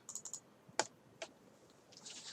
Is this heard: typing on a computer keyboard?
yes